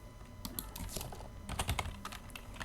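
Rapid, continuous typing on a computer keyboard, with close, crisp keystrokes tapping in uneven bursts throughout and no voices.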